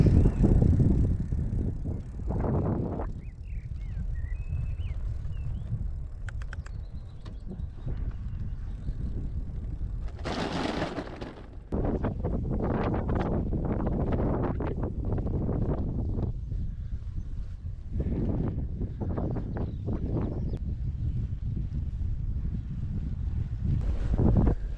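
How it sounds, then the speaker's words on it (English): Gusty headwind buffets the microphone while bicycle touring on the Lôn Las Cymru route through Wales. Low, rumbling wind roar runs steadily through the whole stretch, with louder surges, and no one speaks. "it's a headwind when the windmills are spinning away from you"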